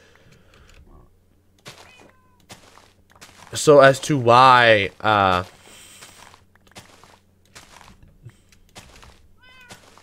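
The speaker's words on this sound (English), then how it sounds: "the only thing I'm worried about is this cat will try and use the waterfall." A Minecraft cat gives a loud, drawn-out meow in the middle of the game's sparse footsteps and clicks, while someone speaks briefly.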